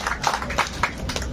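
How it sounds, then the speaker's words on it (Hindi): A gathering of a national-unity team claps for a man asked to stand: a few scattered, sharp hand claps close by in a short burst, with no voices on top. "तालियों से जोरदार उसको अनुमोदित कीजिए"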